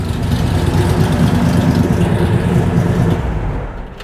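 A 1962 Plymouth Savoy with a 440 engine idles loudly and steadily up close, a deep rumbling burble that holds even for about three and a half seconds before easing off slightly at the end.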